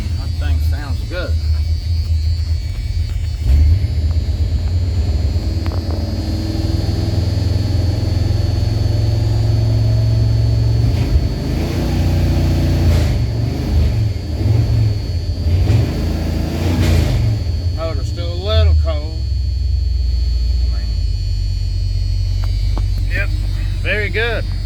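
An old Dodge 4x4 truck with a factory four-speed, its 318 swapped for a 360 V8, idles with a steady deep rumble and occasional revs, while people talk over it.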